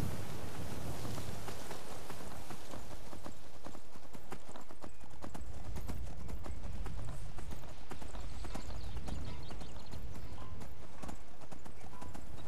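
In the video game Skyrim, a horse gallops steadily, its hooves pounding a continuous, dense, loud clip-clop rhythm over rushing wind and outdoor ambience with no pauses.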